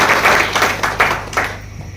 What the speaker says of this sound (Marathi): त्यांच्यासाठी एक जोरदार टाळ्या